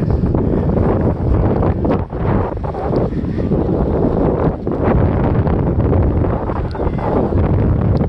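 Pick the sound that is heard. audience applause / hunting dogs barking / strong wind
strong wind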